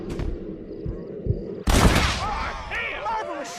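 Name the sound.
gunshots in video game Red Dead Redemption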